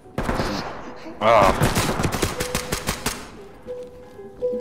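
Rapid bursts of gunfire ring out in the Ready or Not tactical shooter video game, loud and close at first, then settle into a series of sharp individual shots, with a brief voice over the shooting.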